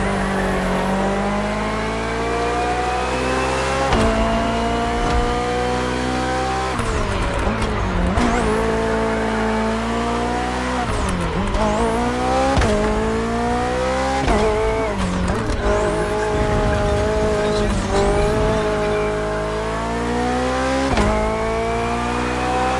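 A BMW hybrid V8 race car screams through a race in The Crew Motorfest, its engine climbing through gears with repeated shifts, loud and close, with occasional tire squeal.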